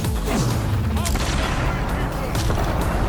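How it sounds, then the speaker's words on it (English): Revolver shots in a video game: a dense run of loud cracking gunshots over a continuous rumbling background, with a voice talking faintly underneath. "switching on in a moment to use the revolver for quicker shots"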